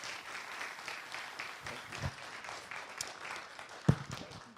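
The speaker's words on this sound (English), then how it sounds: "Can we give one more round of applause for Jon and Jeffrey?" Audience clapping after an author talk at the National Civil War Museum, fairly faint and scattered, with a few louder individual claps standing out.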